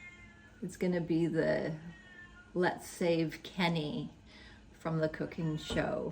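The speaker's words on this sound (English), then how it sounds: "I am so sorry that my cat is crying." A pet cat cries in a home kitchen during a cooking day, giving several drawn-out, insistent meows in close succession, loud and near, while a person talks at the same time.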